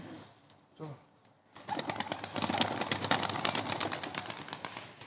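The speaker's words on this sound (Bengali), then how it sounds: "এই সাতটা পায়রা ছাড়া হচ্ছে" Seven pigeons released together burst into loud, rapid wing flapping that continues thickly after a quieter start with a few soft coos.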